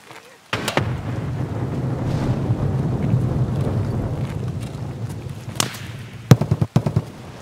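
A grenade goes off in Escape from Tarkov on the Lighthouse map: a sharp crack opens, followed by a long, dense rumbling roar and several loud thumping bursts near the end, heard without speech.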